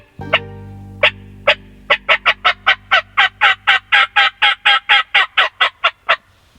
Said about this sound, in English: Gobble way off over there